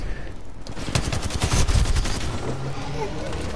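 Rapid automatic gunfire in the video game Apex Legends, a dense burst of loud shots lasting a couple of seconds that then fades, with game sounds and voices around it.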